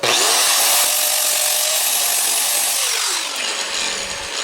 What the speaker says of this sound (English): Take my grinder, clean this up, and then we'll run right over it.